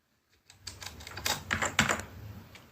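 Someone typing a search into a web browser on a computer keyboard, a quick run of close, crisp key clicks in an irregular burst, alone and without talk.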